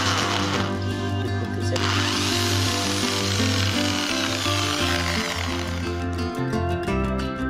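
A power drill fitted with a 6-inch magnetic screwdriver bit drives a screw into wood, a close, loud motor whine with pitch shifts as the screw bites, briefly easing and rising again near the end.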